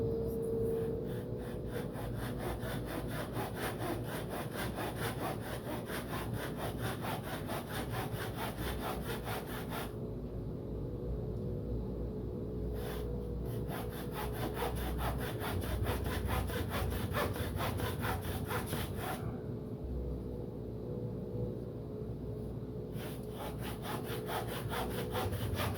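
Wood being sawn by hand for the horizontal stabilizer of a giant-scale P-47 Razorback model plane, a steady rhythmic rasp of back-and-forth strokes close up, with two brief pauses and no talking.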